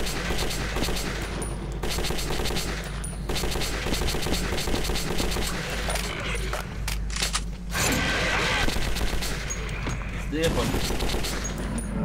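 Gunfire in the Metro 2033 video game, a continuous dense stretch of shooting with mechanical clicks and clatter over a low rumble, loud and close, with a voice talking at times.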